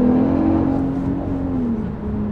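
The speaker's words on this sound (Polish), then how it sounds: "Ale fajnie też słychać tą turbinę, wiesz kiedy ona, tak, ona pracuje." Audi RS3 engine driven at about half throttle through city streets, a steady close drone with a rising turbo whir, loud and continuous with no talk.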